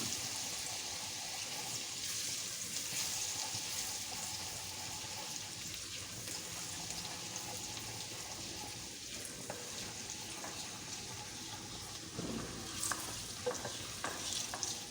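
Mutton for a traditional korma sizzles steadily in a hot pan with garlic, a dense continuous frying hiss broken by scraping stirs and a few sharper clinks near the end, with no voices.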